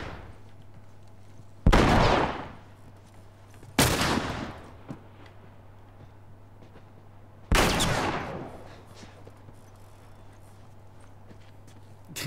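Three loud, sharp gunshots ring out in The Last of Us Part 1, spaced a few seconds apart, each decaying with a short reverberant tail over a low steady game hum, with no talk during the shots.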